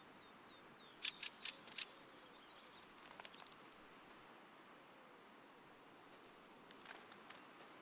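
Scattered high chirps and short bird calls in the video game theHunter: Call of the Wild, Germany reserve, come and go over a steady soft hiss, with a few faint rustling steps in between.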